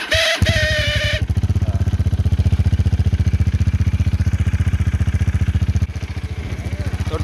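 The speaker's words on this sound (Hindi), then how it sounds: "तो डोमिनार आइडियल में कुछ इस तरह से आवाज़ करती है, काफ़ी भारी आवाज़ है इसकी RS के कंपैरिजन में।" A Bajaj Dominar 400 motorcycle engine idles close by with a deep, heavy, steady rhythmic thump after a brief start-up noise, loud and continuous, with a slight dip in level near the end.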